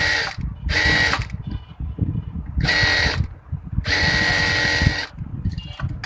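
A domestic sewing machine runs a double seam on a skirt palazzo in bursts, four loud whirring runs of stitching separated by short pauses with handling noise between them.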